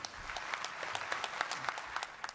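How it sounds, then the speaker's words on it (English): Audience at the COP24 climate conference in Katowice, Poland, clapping in a thin, sparse round, individual hand claps standing out from a soft hall background over a couple of seconds. "There was applause, but not much."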